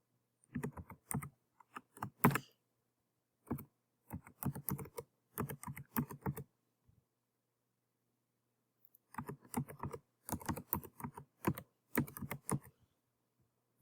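Typing on a computer keyboard comes in quick, quiet bursts of close key clicks separated by short pauses and a longer silent gap, with no talk.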